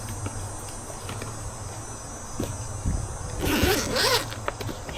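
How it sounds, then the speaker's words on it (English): A zipper is drawn all the way around a case in one long, rasping pull lasting about a second, close and fairly loud over a steady low hum. "So we'll run the zipper all the way around and open it up"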